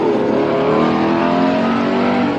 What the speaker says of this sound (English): the car's loud